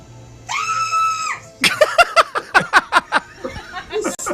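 A sustained high-pitched scream rings out, followed by a rapid string of short, sharp shrieking or laughing bursts, loud and close.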